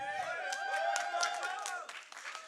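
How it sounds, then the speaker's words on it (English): An audience breaks into applause mixed with whooping, cheering voices, a dense sustained burst of sound throughout the short moment. "her applause was bigger than mine"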